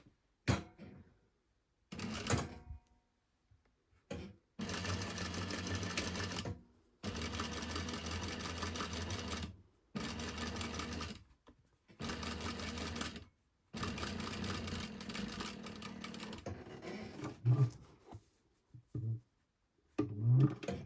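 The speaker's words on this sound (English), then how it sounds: "Okay, so just stitching 1/4 inch seam allowance." A sewing machine stitches a quarter-inch seam allowance around a curve and down the front of a garment, running in several steady bursts separated by short pauses, close and alone with no talking.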